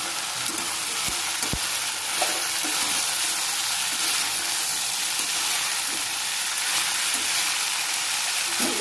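Chopped vegetables, including yellow pumpkin and sweet potato, sauté in a pan for eight-vegetable kootu with a steady close sizzle and hiss, broken by a couple of sharp utensil taps.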